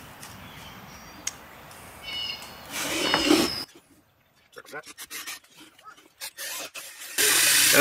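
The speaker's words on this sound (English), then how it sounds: "This is a number 6 countersink bit." A number 6 countersink bit bores into scrap plywood in short bursts of grinding, raspy drilling. The bursts are separated by quiet handling noises, and a louder, sustained burst closes the sequence.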